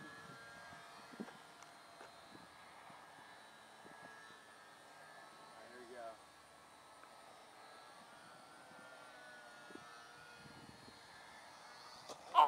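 A small RC plane with an electric motor whines faintly at a distance as it lifts off a short ground run and flies, its buzz wavering, with brief bumps and faint voices.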